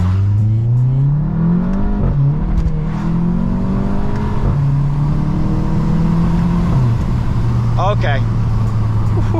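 Straight-piped Volkswagen GTI exhaust drones steadily at idle and light revs, rising and falling in pitch, close and loud, with a brief crackle near the end; a voice speaks briefly over it.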